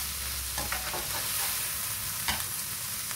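Food being stirred in a frying pan, probably a soy-seasoned dish, with a steady sizzle and a few close utensil scrapes and clinks against the pan, no talking.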